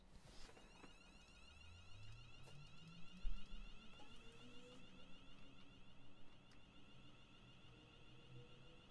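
Emergency brake alarm in the Train Sim World 6 train simulator on the West Coast Main Line Trent Valley: a steady, moderately loud electronic alarm tone sounds over low rumbling brake and engine noise for the whole stretch.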